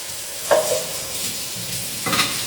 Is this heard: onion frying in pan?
yes